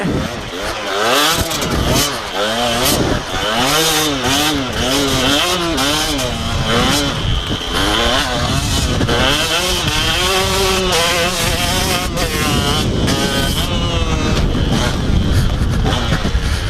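KTM 125 two-stroke motocross bike ridden on a muddy track, its engine revving up and down continuously and close by, with someone talking over much of it.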